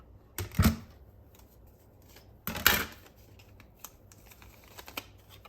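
A die-cutting machine feeding 3.5-inch wide cardstock through its base plate sandwich, heard nearby as two distinct loud mechanical rolling clunks a couple of seconds apart, with faint clicks afterward.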